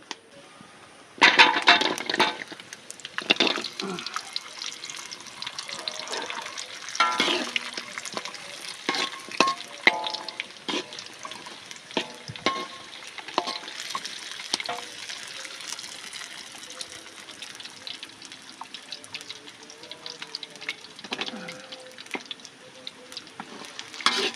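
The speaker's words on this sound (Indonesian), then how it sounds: "Sekarang mau ngegoreng jengkol dulu." Jengkol beans frying in a pan of oil, a quiet continuous crackle and sizzle with irregular louder pops and spatters throughout, stirring clatter mixed in.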